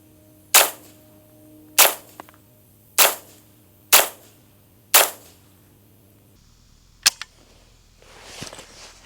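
A rifle fitted with a Texas Weapon Systems Gen3 dog leg dust cover fires five evenly spaced, sharp shots, each a loud crack with a short tail, followed by faint handling clicks and rustle.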